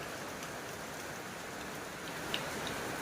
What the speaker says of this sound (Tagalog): Pero malakas na yung ulan.